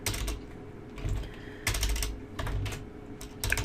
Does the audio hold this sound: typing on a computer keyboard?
yes